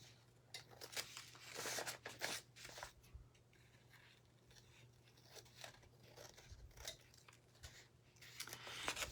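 Scissors snip paper around an envelope during a decoupage craft with plastic wrap, giving quiet, close crisp cuts and rustles in irregular runs over a low steady hum.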